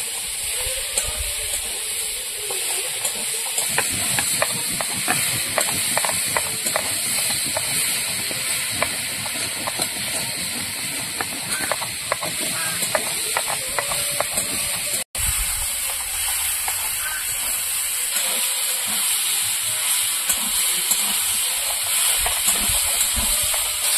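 Vegetables with green banana being stir-fried in a pan for a catla fish curry give a steady, close sizzling hiss with scattered crackles, continuous throughout with a brief dip midway.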